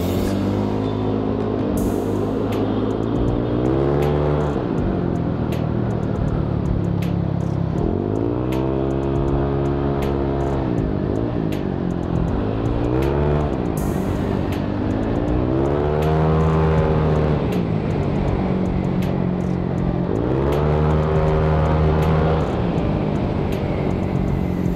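Yamaha Aerox 200cc scooter at night, its engine revving up in repeated rising sweeps as it accelerates, dropping back between pulls; loud and close, with no talking.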